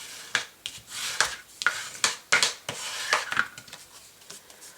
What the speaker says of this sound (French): À l'aide de notre plioir en os, nous allons plier la carte en deux au niveau de notre trait